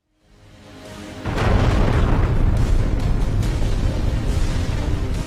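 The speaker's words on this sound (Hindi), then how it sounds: "पहली फुटेज में देखा जा सकता है कि फायरिंग जैसी आवाजें सुनकर राहगीर इकट्ठा हुए कि अचानक धमाका हो गया।" A bomb blast on a street, caught by a CCTV camera, opens with rising noise and then bursts into a loud, sustained roaring explosion that fills the rest of the moment without any voices.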